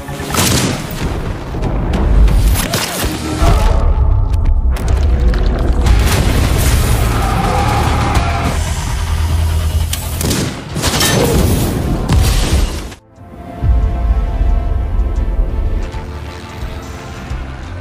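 Loud, dense gunfire and booming blasts from a sniper film scene fill the stretch almost without pause, with heavy rumbling reports, a brief drop to near quiet, then continued low ambient rumble.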